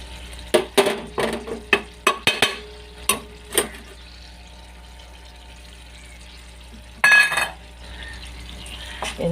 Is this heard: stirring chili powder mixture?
yes